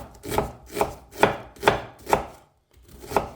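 A Venture Pro knife chops food on a board while cooking outdoors in the woods: five steady, firm, close chops at an even pace, a short pause, then one more cut.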